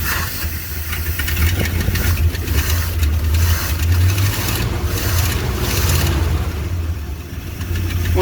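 A 1956 COE cab-over grain truck engine idling steadily after a sticking choke was fixed, loud and close with a low continuous rumble and slight rough pulsing throughout, no voices.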